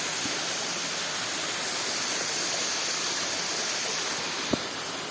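Continuous rushing roar of a waterfall in dry season, steady and broadband, with a brief knock near the end.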